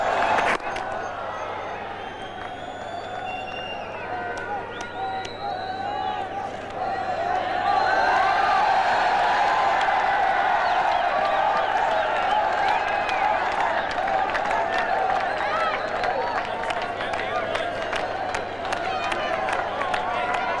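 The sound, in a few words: cricket crowd cheering and applauding for Holland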